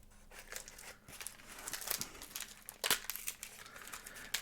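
A plastic baggie crinkles and crackles as it is pulled open by hand, giving irregular close bursts of sharp rustling with brief pauses between them and no talking.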